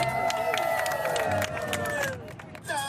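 A crowd cheering and hollering at a dog fashion show during the Byward Bark festivities in Ottawa, a lively mix of cheers and whistles with a host's amplified voice over the noise.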